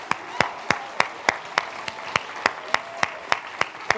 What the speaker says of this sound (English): Can we give all of our teams another round of applause?